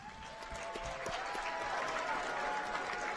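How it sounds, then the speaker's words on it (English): Sustained clapping from the stands at a Central Wyoming College volleyball match against LCCC, an even wash of applause that swells slightly and holds, heard from a moderate distance in a gym. "Can we get one last round of applause for all of our sophomores, please?"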